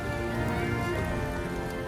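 Heavy stormy rain pours down in a steady, dense wash of noise that stays loud and unbroken throughout, with no voices.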